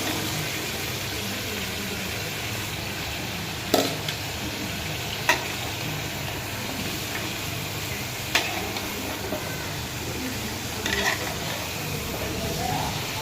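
Squash being added to a curry cooking in a pan, giving a steady frying sizzle with a few sharp scrapes and clinks of a utensil against the pan.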